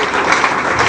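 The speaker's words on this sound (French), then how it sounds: "On applaudit pour notre camarade ici." Audience applause for a comrade at a college tour gathering in Uvira, a dense, steady wash of clapping at close range that fills the whole moment without pause.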